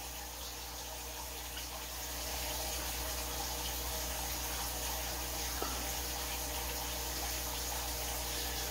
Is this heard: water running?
yes